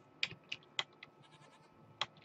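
Goats in the Minecraft Mo Creatures mod give a few short, bright bleats, spaced irregularly and fairly faint over a quiet background with no talking.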